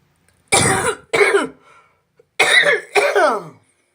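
Four harsh, close coughs come in two pairs, separated by a short pause. There is no speech.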